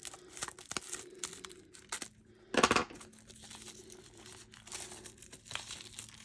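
A 6x6-inch, 48-sheet patterned paper pack is opened with soft rustling and crinkling of the wrapper, including one louder tearing crunch partway through, quiet and close with no talking.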